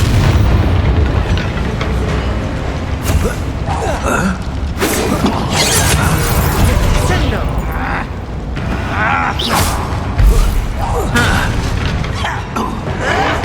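Bombarda and Confringo spell blasts in Hogwarts Legacy, with repeated loud booming explosions and creaking, mechanical game effects running continuously, and a spoken voice mixed in with the spells.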